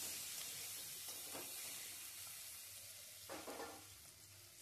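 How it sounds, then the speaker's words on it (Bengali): Potatoes frying with turmeric in a pan give a steady close sizzle throughout, with a couple of brief stirring scrapes and louder crackling bursts, no talking. "হলুদটা দিয়ে আলুটা কিন্তু একটু ভেজে নেব আমরা।"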